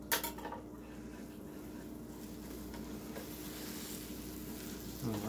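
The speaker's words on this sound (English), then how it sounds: "Okay, I can hear the hamburger sizzling here." Homemade hamburger patties bound with egg sizzle quietly on a grill, a soft continuous crackling hiss with a faint steady hum underneath, no voices.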